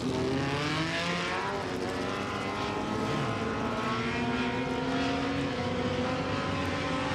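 A modified race car rolls out onto a racetrack, its engine giving a loud, close, steady rumble with a throaty drone that holds for the whole stretch, no voices over it.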